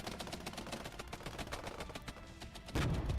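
Gunfire in the Regiments war game crackles as rapid, dense bursts of shots, some distant and some nearer, continuing throughout without a break.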